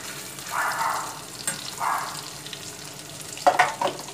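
A breaded milanesa beef steak, dipped twice in egg, fries in hot oil. A soft, steady sizzle is broken by short bubbling flares and a few sharp spatters near the end.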